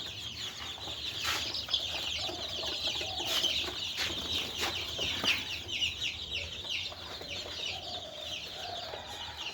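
Native chickens on a small farm cluck and call repeatedly at fairly close range over a constant background hiss, with almost no talking.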